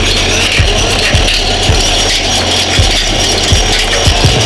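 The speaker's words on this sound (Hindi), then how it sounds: "ये 60 हार्स पावर का 6 सिलेंडर का इंजन है, जिस पर कपलिंग के जरिए भैया 6 इंच डाया के 2 ट्यूबवेल चलाए जा रहे हैं" A 60 hp six-cylinder engine coupled to drive two 6-inch tubewells runs steadily and loudly, a low rumbling drone with regular pulsing thumps throughout.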